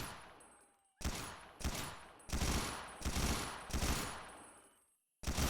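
Automatic P90 submachine gun fire in the survival shooter XERA: five loud close bursts, each a dense rattle of rapid shots that rings off into a fading tail, separated by short gaps, with no voices.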